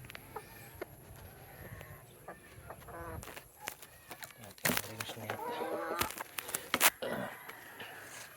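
Rhode Island Red chickens clucking on a farm, scattered nearby clucks and squawks with louder bursts in the second half, mixed with people talking.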